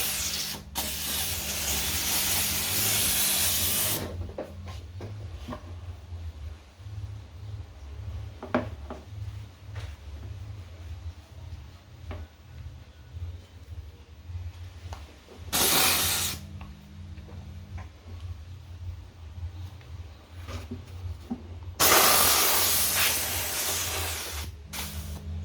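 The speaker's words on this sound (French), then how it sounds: "Inutile de dire que c'est un jet de vapeur d'eau chaude" A Kärcher SC3 steam cleaner blasts hot steam over a car's engine bay in long, loud hissing jets. They start and stop several times with quieter gaps between them, and no one talks.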